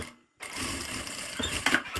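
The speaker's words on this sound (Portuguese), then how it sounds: "vou passar uma costura aqui embaixo" A sewing machine runs a seam closing an opening along the bottom of folded fabric for a phone-holder wallet, a steady close whirring stitch after a brief silence, with a couple of louder clicks near the end.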